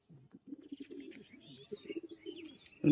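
Giribaz pigeons from Murshidabad coo softly and repeatedly, with faint higher chirps above. The sound is close but low in volume and ends in a sudden louder knock.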